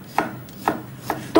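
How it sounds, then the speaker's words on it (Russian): Knife slicing garlic cloves into thin slices on a cutting board, four crisp evenly spaced cuts, close and clear. "и нарезаю чеснок вот такими"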